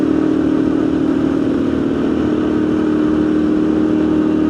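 A motorcycle is ridden at a steady pace, its engine giving an even, continuous drone close to the rider with no break.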